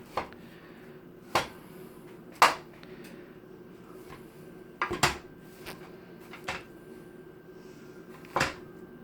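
A pan with partially frozen food being broken up and pressed, with a series of separate hard knocks and rattles as the pan shifts, spaced a second or two apart over a quiet background.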